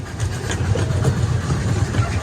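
A long freight train with mid-train helper locomotives rolls past close by, a loud, steady low rumble of engines and rolling wagons without a break.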